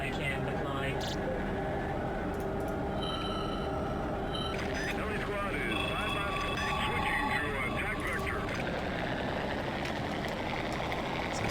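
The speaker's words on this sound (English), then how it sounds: "I love these helicopters." Helicopters fly in the video game Urban Assault, a steady droning engine and rotor wash running throughout, mixed with electronic tones and game effects, and a voice talking over it.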